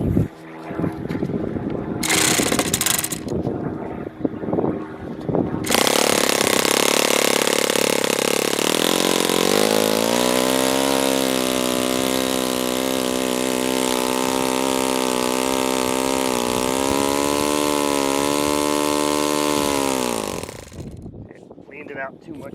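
An O.S. FS20 four-stroke model engine sputters through a start, then roars to a loud steady run and settles into a buzzing idle with a slight pitch shift before cutting out.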